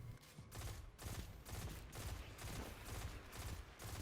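Rapid repeated gunfire from a primary weapon in the video game Destiny 2 sounds as a steady stream of evenly spaced shots, fairly faint, with a few brief pauses.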